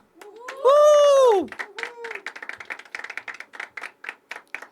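Audience at a poetry open mic claps in a quick, uneven patter of many hands, following a loud sustained tone at the start, with the clapping continuing steadily at moderate volume.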